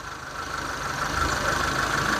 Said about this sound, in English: you listen for the engine change when you release the bolts